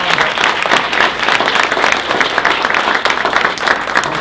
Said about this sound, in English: So let's give an applause to Janet and Michael